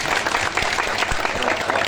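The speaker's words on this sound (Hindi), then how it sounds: "आप लोग एक बार तालियों से आदेशित करिए" Audience at a Navratri poetry recital with a devotional poet applauds in a loud, dense, continuous wash of clapping from a large crowd, steady throughout with no speech.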